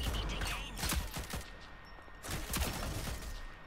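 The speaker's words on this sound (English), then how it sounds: "Getting some shots off." Gunfire in the video game Rogue Company, several sharp shots in quick clusters, a burst early and another later, loud against a busy game background.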